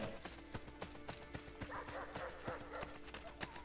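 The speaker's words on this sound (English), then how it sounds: "I hear dogs, but I have not seen a dog in this game." Dogs bark repeatedly in the distance within the Assassin's Creed Brotherhood game world, mixed with clattering horse hooves and busy ambient street noise, with no speech.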